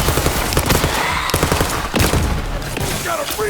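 Heavy gunfire in the video game Borderlands 3's Bounty of Blood DLC, dense overlapping shots and bursts with a few sharper blasts, continuous and loud for several seconds amid other battle noise.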